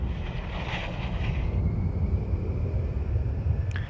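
A passenger plane in SimAirport, an airport simulator game, produces a steady low engine rumble with a faint higher whine, continuous and moderately loud throughout with no talk.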